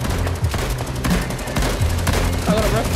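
Gunshots in the video game Fortnite, rapid bursts of gunfire in a dense, loud volley with bits of game sound mixed in and no talking.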